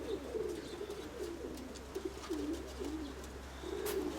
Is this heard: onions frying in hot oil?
no